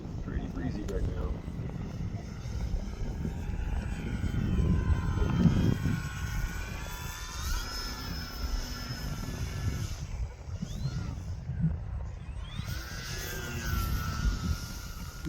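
An E-flite SR-71 RC model jet with AS3X stabilisation flies in breezy, windy conditions, giving a steady whirring drone that rises and falls in pitch. Someone talks over it throughout.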